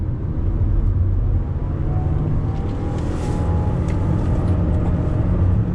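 A Toyota RAV4 Limited hybrid SUV accelerates through twisty road bends, with a steady, loud engine and road rumble heard from inside the cabin and no talking.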